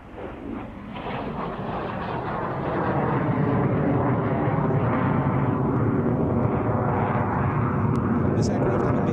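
Jet trainer converted to T7 standard flying past at an airshow, a broad roaring engine rush that builds and then holds steady and loud throughout.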